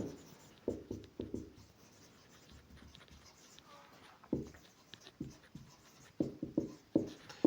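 A math equation is written by hand in quick clusters of pen strokes, scratchy and close, with pauses between bursts.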